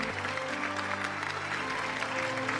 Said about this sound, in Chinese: 我们在这里呢也再次把充满敬意的掌声送给刘奔老师